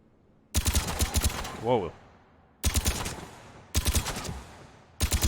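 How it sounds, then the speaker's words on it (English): Assault rifle firing in bursts in a Rainbow Six shooting range, three loud close rapid volleys of sharp cracks separated by short pauses, with someone speaking briefly between them. "Alright, so this is an AR."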